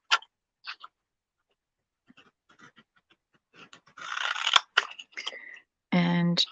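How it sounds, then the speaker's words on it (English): Scissors snip paper to cut grass blades for a nature-themed craft, making a few sharp, scattered cuts in a quiet room with short gaps between them, and a voice briefly sounds near the end. "these are my best grass making scissors"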